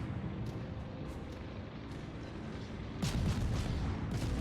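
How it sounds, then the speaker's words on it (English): Ship's guns firing in a naval battle video game, a low continuous rumble of gunfire that swells into a louder, denser roar partway through, with no talking. "So I might as well shoot my guns"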